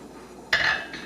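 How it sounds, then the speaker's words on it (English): A spoon skims fat off a pot of Cincinnati chili with a short, bright metallic scrape and clink against the pot. It rises suddenly and fades within about half a second, close and fairly loud. "we're going to skim the fat off this chili"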